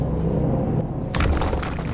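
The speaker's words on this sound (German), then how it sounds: "Plötzlich hörte man in der Nähe ein Grollen. Steine barsten auseinander" Deep rumbling from the Dungeons 2 video game, breaking into a crackling, shattering burst of stones splitting apart partway through, loud and close over a low sustained drone.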